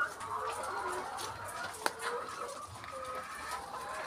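Laying hens twenty-five weeks old cluck and murmur steadily in a poultry house, with several overlapping birds at close to moderate distance and one sharp click midway, no talking.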